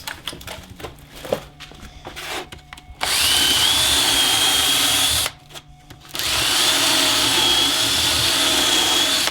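A power drill whines loudly in two long bursts, separated by a short pause, after several quieter tapping and knocking sounds.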